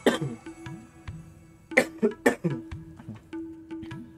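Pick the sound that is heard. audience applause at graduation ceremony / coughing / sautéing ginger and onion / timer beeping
coughing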